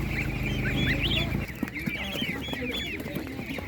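Chickens cluck and chirp steadily against a low, busy background rumble at an animal market, loudest in the first second and a half, then softer.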